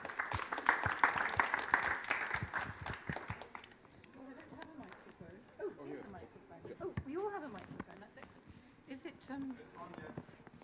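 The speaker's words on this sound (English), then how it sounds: "a big applause for the panelists." An audience applauds panelists at a panel discussion, with a burst of scattered clapping at first that fades as speech takes over for the rest.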